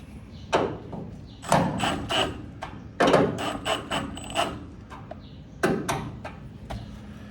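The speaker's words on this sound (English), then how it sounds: "we're gonna have to get the bigger hammer out here, try to close this gap up some" A series of sharp metallic strikes of a hammer on a metal panel at an uneven pace, some clustered in quick pairs, ringing briefly against a low background hum.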